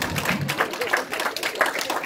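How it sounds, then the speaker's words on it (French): Church congregation clapping during a sermon, a steady dense patter of applause throughout with some voices mixed in. "Alléluia, applaudissez plus fort,"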